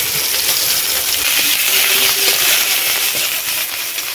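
Ginger paste, onion paste and turmeric sizzle in hot mustard oil in a wok for a village-style Bengali dish, a loud, steady frying hiss throughout with no voices.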